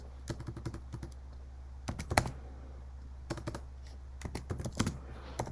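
Keystrokes on a computer keyboard come in short, quick bursts of soft clicks with pauses between them, fairly faint against a steady low hum.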